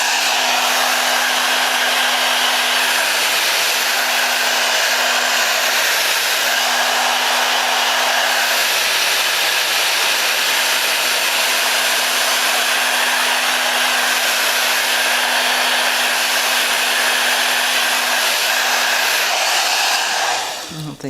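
A hair dryer blows steadily and loudly at close range while styling a synthetic wig, holding a constant whooshing hum for about twenty seconds before cutting off at the end.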